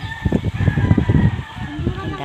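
Chickens clucking and crowing close by, a busy flock with overlapping calls and some background noise.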